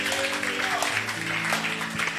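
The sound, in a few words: congregation applauding in church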